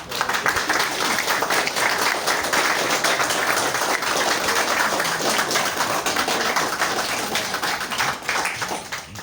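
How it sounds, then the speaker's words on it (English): An audience at an art gallery exhibition launch applauds loudly and continuously, a dense wash of clapping hands that holds steady before tapering slightly at the end. "So big round of applause."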